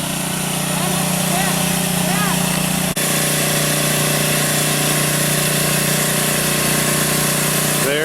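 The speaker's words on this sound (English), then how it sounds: "the generator" A house generator runs outdoors after a storm, a steady, loud, droning engine hum with a constant pitch that continues throughout, with a brief dip near the start of the clip.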